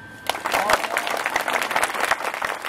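Audience applause fills a concert by a vocal impersonator in Mouriès: a dense, steady wash of many hands clapping that swells and holds for a few seconds, with crowd voices mixed in.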